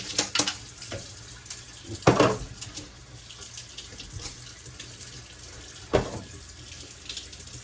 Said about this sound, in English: You're going to take your cup and you're going to fill it up with the dirty water, and you're going to dump that ceramic in